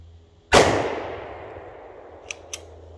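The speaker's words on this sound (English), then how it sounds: "Let's shoot a couple more things. I got some cans kicking around here." A single sharp, loud CZ-52 pistol shot cracks outdoors at cans and rings out in a long decaying tail, followed by two faint metallic ticks.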